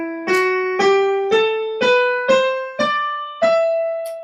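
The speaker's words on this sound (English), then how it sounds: "This is the E natural minor scale." Single melodic instrument plays an E natural minor scale upward, seven evenly spaced plucked or struck notes about half a second apart, each with a sharp attack and ringing decay, clear and close with no talking.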